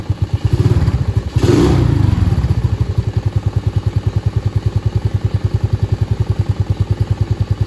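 A Honda Navi scooter engine idles a little high, a close, loud, steady single-cylinder putter with even rapid pulses. A brief thump and rev-like swell comes early before the idle settles, with no talk.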